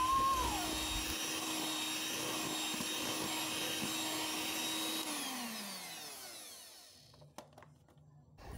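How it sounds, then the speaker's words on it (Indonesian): An electric hand mixer whirs steadily at low speed through cake batter with flour for a steamed tape sponge cake, then winds down and stops near the end, leaving a quieter background. "setelah terigunya dimasukkan, aku akan mixer kembali ya teman-teman. Tapi kita pakai kecepatan rendah aja ya."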